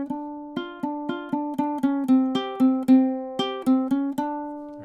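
Ukulele picking an intro riff with the thumb, a steady run of plucked single notes, each decaying quickly, played alone and close.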